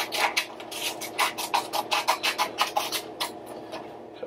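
Scissors snipping through paper to cut two long strips for a paper frog craft, a quick run of about a dozen close, rhythmic rasping cuts with no talking.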